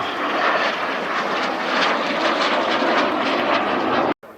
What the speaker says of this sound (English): the British Aircraft Corporation 167 Strikemaster